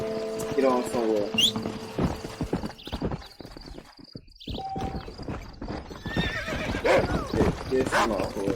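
Horse whinnies and hooves clip-clop in the Red Dead Redemption video game: a shrill neigh rises early, then hoof beats and game noise continue, with someone talking over much of it.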